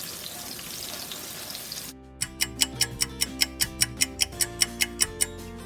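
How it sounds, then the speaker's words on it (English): Green onions and garlic sizzle steadily in a pot for a couple of seconds, then a regular ticking like a clock takes over, evenly spaced and fairly loud. "Stir that in and continue frying for about 3 to 4 minutes."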